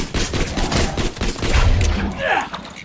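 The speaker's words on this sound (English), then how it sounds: "Ridiculously low fire rate for a machine pistol." Gunfire from a machine pistol in the shooter game Borderlands 2 crackles as a dense, continuous clatter of shots, loud and close throughout the short stretch.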